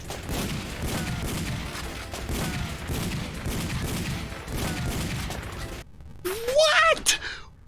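Rapid gunfire bursts from a light gun video game rattle on steadily for about six seconds, followed by a short electronic game chirp, with voices talking over the shooting.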